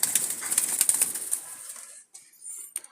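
A wild Jalali pigeon's wings flap in a quick close flurry as it is released, then the sound fades to near silence with a few faint later flutters.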